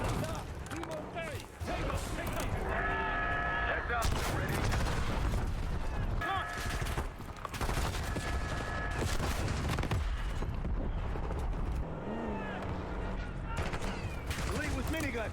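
Minigun fire in a Call of Duty mission, dense sustained bursts of rapid gunfire with booming impacts and explosions, loud and continuous over about fifteen seconds, with game voices heard at points beneath the shooting.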